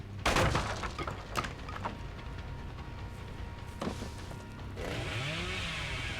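A generator being broken in the video game Dead by Daylight: sharp metallic clanks and impacts followed by crackling, grinding mechanical bursts and a sustained whirring noise at the end, with no talking.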